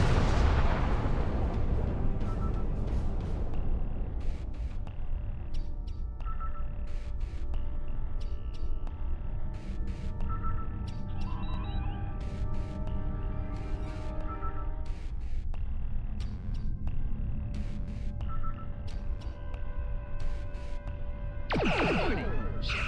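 Spaceship weapons firing and explosions during a Star Trek Online space battle, with a continuous loud barrage of booms and rumbling blasts, dense electronic zaps and tones layered over it, and a sharp sweeping burst near the end.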